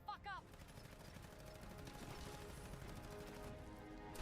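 Submachine gun fire in a video game rattles as a dense, continuous burst of rapid shots, fairly loud and sustained throughout, with a brief muffled voice at the start.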